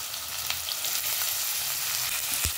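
Onion, green chilli, ginger, garlic and capsicum frying in a little oil in a pan for Mumbai-style pav bhaji, giving a steady close sizzle with a few soft utensil knocks, no voices.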